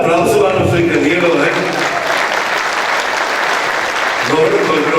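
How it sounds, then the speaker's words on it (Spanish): Audience at a Latin American canola symposium applauds steadily for about five seconds, a dense wash of clapping from a full room, while a voice on the sound system speaks over it near the start and again at the end. "Más fuerte el aplauso a nuestro ingeniero."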